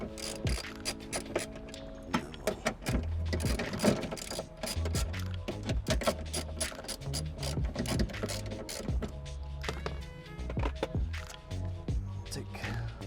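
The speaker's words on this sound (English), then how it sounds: "now we're going to tighten up these bolts here, but not all the way" Ratchet tightening bolts on the window regulator of an old GM car, with rapid, close pawl clicking in uneven bursts that runs steadily through the clip.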